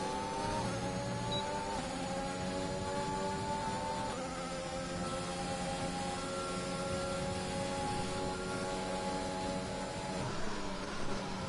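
Racing cars in a sim racing game at a Britain circuit: engines drone and whine steadily in a continuous mid-level blend, their pitch shifting as they run close together through an overtake.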